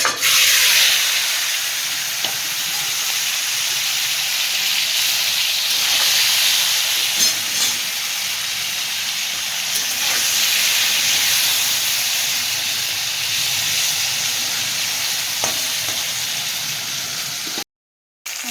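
Fish frying in hot mustard oil in a wok, a loud, steady hiss that holds for the full stretch with no voices, then cuts out briefly near the end.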